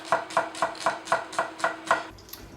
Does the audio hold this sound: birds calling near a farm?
no